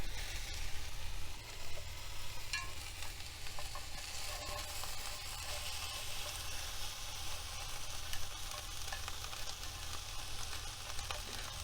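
Zucchini and peppers fry in a pan for a tofu and udon stir fry cooked in a van, giving a steady, close sizzle with a constant crackling hiss and no talk.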